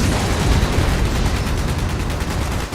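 Artillery fire in Fallout 76, a dense continuous rumble of rapid booming blasts packed tightly together, loud and close throughout, with no voices.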